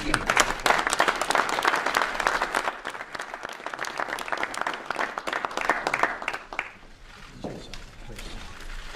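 Brisk applause from a crowd at a presidential address on border security fills the first several seconds, then fades away as a voice begins speaking.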